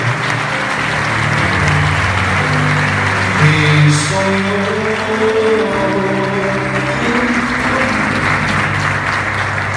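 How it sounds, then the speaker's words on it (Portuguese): Congregation applauding during a Catholic Mass in a church, steady sustained clapping over sung music and organ-like tones, filling the whole stretch at fairly loud level. "Aplauda o nosso Deus."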